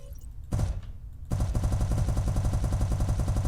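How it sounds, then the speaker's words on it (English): Turret weapons in Spacebourne 2 open up on an unshielded target after a short burst, then fire continuously in a rapid, even rhythm, loud and close, with no talking. "Now activate your turret's weapon group."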